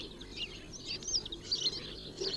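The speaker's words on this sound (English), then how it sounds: "Hello, there's the thrush." Garden birds, including a thrush, chirp and twitter in a British garden, a busy overlapping run of bright tweets and calls close by with no talking.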